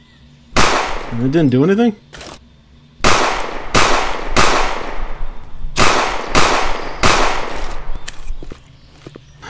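Gunshots in a police simulator video game: loud, sharp cracks, first a single shot, then a burst of several bursts in irregular rhythm, with a voice speaking briefly between them.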